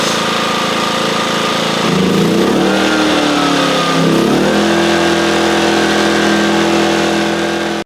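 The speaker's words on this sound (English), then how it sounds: "we got the POWERHORSE generator running" A POWERHORSE 2500i gas generator running on max: a steady mid-pitched engine drone that shifts and rises in pitch as the load changes, then settles into an even, loud hum, heard close and alone.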